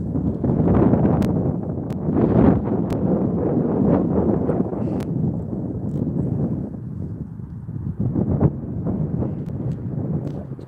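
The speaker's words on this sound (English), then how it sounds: "the wind's blowing. The wind is blowing." Gusty wind buffets an ice fishing shanty out on a frozen lake, a steady loud low roar with rustling and flapping bursts filling the whole stretch.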